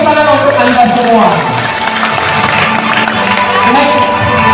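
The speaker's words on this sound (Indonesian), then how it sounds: "Tepuk tangan untuk Anda semua." Crowd cheering, shouting and whooping from an audience at a high school event, loud and sustained, with voices mixed into the crowd noise.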